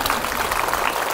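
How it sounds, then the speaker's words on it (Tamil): Applause from an audience at a school excellence programme, clapping for former students; dense, steady clapping fills the whole short stretch at moderate loudness. "நல்லா கைதட்டுங்க"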